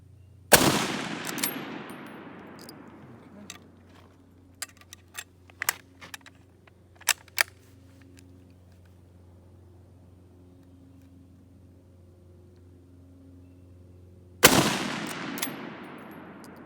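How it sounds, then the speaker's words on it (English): A Lee Enfield No4 rifle fires two loud, sharp shots about fourteen seconds apart outdoors, each with a trailing echo. Small clicks and knocks fill the quiet gap between them. "I am going to take 5 shots at the head."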